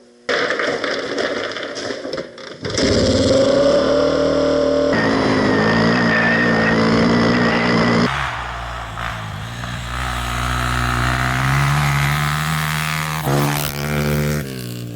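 A motocross motorcycle on studded spike tires rides on snowy trails, its engine revving loudly up and down through gear changes, nearby and then passing, with a second bike audible later.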